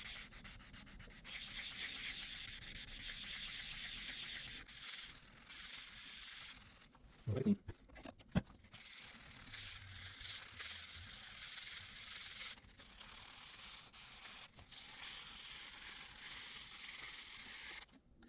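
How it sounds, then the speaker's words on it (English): A Ring doorbell lens is wet-sanded with 800 grit sandpaper, giving a continuous close hissing rub with brief pauses and a few handling knocks midway. "Right, so this is with the 800 grit sandpaper."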